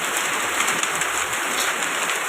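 Steady heavy rain with hail pouring down on a surface, a dense continuous hiss with no other sounds standing out.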